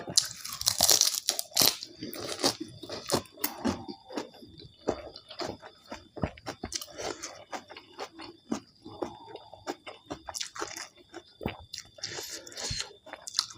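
Close, crisp chewing and crunching of a spicy seafood glass noodle salad, with irregular bites and wet mouth sounds repeating steadily and no talking.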